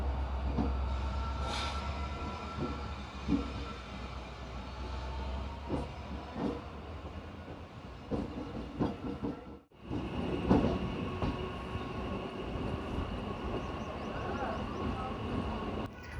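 3-phase MEMU electric train running near Bandikui, a steady rumbling roll with faint wheel clatter and interior hum heard from inside the coach, with a brief dropout midway.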